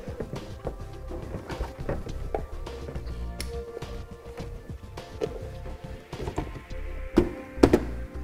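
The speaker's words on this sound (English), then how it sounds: "let's go ahead and put our taillight back into place" A car taillight being pushed and fitted back into its housing, heard as a close, steady run of dull plastic thunks, taps and small clicks, with a couple of sharper knocks near the end.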